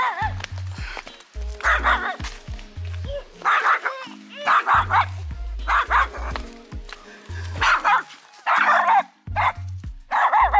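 A dog barks repeatedly and loudly in bursts over the whole stretch at a Sozopol beach resort in Bulgaria, with someone talking in between.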